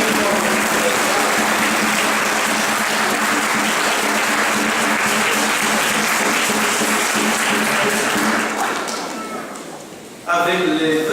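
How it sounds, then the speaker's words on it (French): Parish congregation applauding during a New Year's greetings address, steady loud clapping from a crowd that fades near the end before a voice begins speaking. "Tu peux te lever, on va les applaudir aussi."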